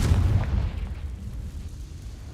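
A Confringo fire spell in Hogwarts Legacy bursts in a heavy, low boom that decays into a rumbling tail over about two seconds, loud and close with no talk.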